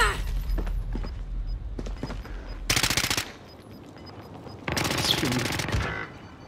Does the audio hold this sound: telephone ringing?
no